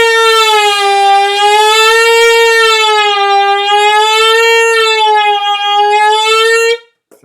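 Saxophone holding a long bright reed tone that glides smoothly up and down in pitch like a slow siren wail, loud and close, sustained for about seven seconds before cutting off abruptly.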